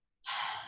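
One sharp, breathy exhale or gasp after a cardio workout, close and fairly loud, rising abruptly and holding steady for about half a second with no talking.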